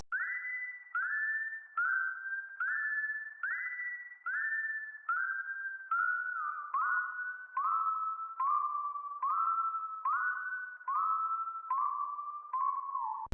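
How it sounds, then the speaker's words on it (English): A bell one-shot sample shaped to sound like a whistle plays a run of about fifteen short, clear notes, each sliding up in pitch, alternating between two pitches and drifting slightly lower, bright and fairly soft with no voices. "I added this bell one shot that I made sound like a whistle"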